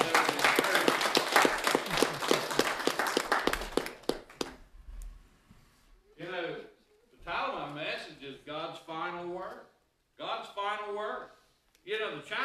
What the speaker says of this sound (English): Everybody give him applause.